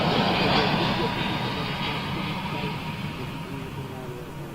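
An airliner passes at a distance, its jet rumble fairly faint and slowly fading as it moves away.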